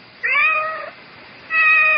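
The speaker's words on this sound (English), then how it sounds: "I seem to have this cat." A cat meows twice in a radio drama, two clear, close, drawn-out calls with a short pause between them, heard alone over a quiet background.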